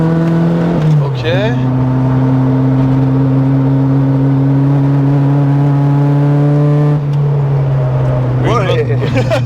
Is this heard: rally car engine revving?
yes